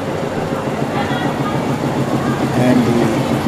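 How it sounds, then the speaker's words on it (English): A passenger train pushed from behind by a YDM4 diesel locomotive rumbles past nearby in rain near Coonoor on the Ooty railway, with a low engine drone and rhythmic wheel clatter, steady and moderately loud. "YDM4 locomotive pushing it from behind."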